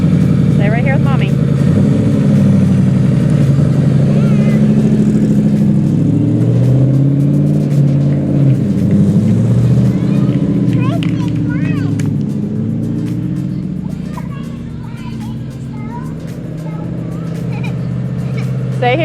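Go-kart engine from a Factory Five Cobra project on a test drive, a steady droning motor running loud and close before easing off slightly, with people talking over it.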